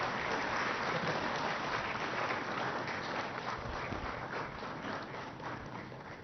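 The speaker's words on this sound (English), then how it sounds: "Have a big applause." A hall audience at a High Court ceremony applauds for a memento presentation, a dense continuous wash of many hands clapping that fades slightly toward the end.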